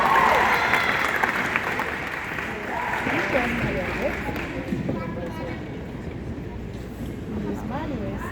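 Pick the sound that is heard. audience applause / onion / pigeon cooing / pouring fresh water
audience applause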